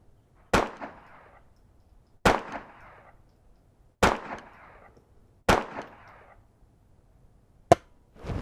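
Four loud, evenly spaced gunshots from a Brownells 10/22 takedown rifle at an outdoor range, each a sharp crack with a short echoing tail, followed by a fifth, quicker report.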